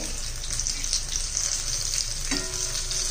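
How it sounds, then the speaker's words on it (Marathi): Chili bhaji fry in hot oil with a loud, continuous sizzle, and near the end a single clatter marks a piece being flipped. No one speaks. "हे पहा आपण आता उलटे करून घेऊया भजी। दोन्ही बाजून छान असे"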